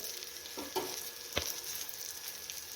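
Stuffed green chilies frying in a pan, a low continuous sizzle with a few soft knocks and one sharp scrape of a utensil, heard close and alone without any talking.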